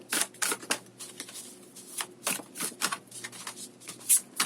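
Tarot cards are shuffled by hand in quick, irregular bursts of crisp riffling and slapping, close and fairly quiet, with short pauses between each pass.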